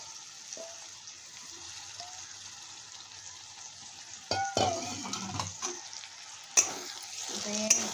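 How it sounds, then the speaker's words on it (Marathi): Bombay duck fish dropped into sizzling masala in a pan, a low frying hiss that turns louder as the fish goes in, with bursts of stirring and clinks of a utensil against the pan. "त्यामध्ये आता आपण हे बोंबील टाकून घेऊया।"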